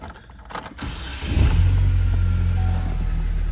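A 2008 Saturn Sky 2.4L four-cylinder with a 5-speed manual cranks briefly, then catches and settles into a steady, close idle hum.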